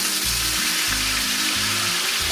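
Montreal-crusted steak searing in a hot skillet before going into the oven, a loud, steady, close-up sizzle and crackle of fat that fills the short stretch with no talking.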